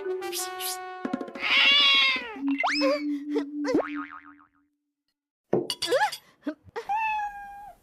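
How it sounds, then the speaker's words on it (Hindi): Cartoonish springy boing sounds and a drawn-out meow-like wail from a cartoon cat, then a pause followed by more sliding, whiny cat-like cries. "हिश, हिश, अरे भाग कलूटी बिल्ली।"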